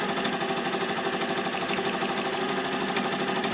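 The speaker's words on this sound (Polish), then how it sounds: "Maszyna zaczyna robić nam imię" An embroidery machine stitching out a name runs with a rapid, even mechanical chatter of needle strokes, close and steady throughout without pauses.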